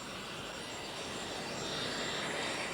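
A private jet's engines roar steadily and loudly at close range, a broad continuous whine and rush that swells slightly toward the end, with no voices.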